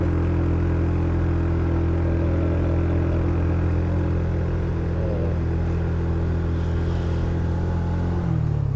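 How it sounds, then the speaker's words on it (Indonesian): Vehicles on a steep new hillside road near a cleared landslide give a steady low engine rumble and drone that holds for several seconds, close and loud, with no talking. "ada mobil yang nanjak dua di sana"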